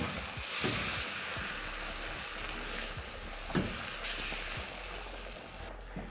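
Blended tomatoes stirred into mushrooms cooking in a pan, with a steady sizzle and occasional soft scrapes and knocks from stirring, no one talking.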